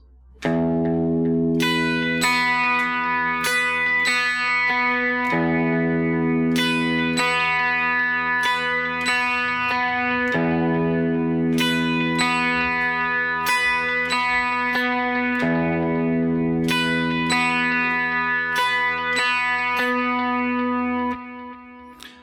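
Distorted electric guitar picks a repeating octave-shape passage in a gothic style, with phrases recurring at a steady pace, loud and close with sustained ringing notes and no voice over it.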